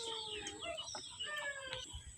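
Desi roosters and hens, including a black rooster, wander and graze on grass in a yard, giving soft, scattered clucks and short calls close by, quiet and intermittent over faint background noise.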